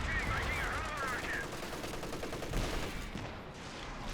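Sustained tank gunfire in the Company of Heroes 2 video game, with a Comet tank and a Jagdpanzer engaged, rattling battle noise throughout alongside a brief whistling tone, fairly quiet overall.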